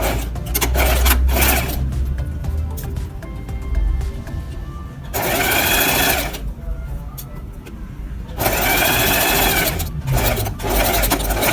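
A sewing machine runs in steady bursts, stitching a seam on fabric, with loud continuous whirring broken by brief pauses and no talk over it.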